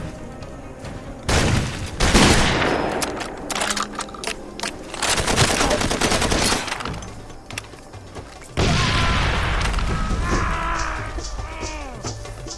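Dense, loud gunfire and booming explosions from the video game S.T.A.L.K.E.R., including double-barrel shotgun blasts, in rapid continuous bursts with crashes and impacts layered throughout.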